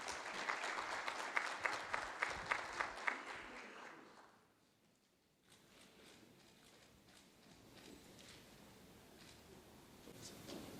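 An audience at an employment and entrepreneurship conference opening in Tunisia applauds for a minister, with moderate clapping that dies away after about four seconds, followed by quiet room tone and faint murmuring.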